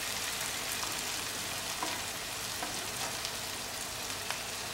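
Masala fries in ghee in a pan for a chicken curry, giving a soft, steady sizzle and crackle with a few faint pops and no voices.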